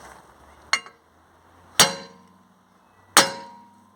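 A hammer strikes an Audi A6 front wheel bearing three times, spaced evenly. Each blow is a sharp, ringing metallic clang that fades quickly, with quiet between the hits.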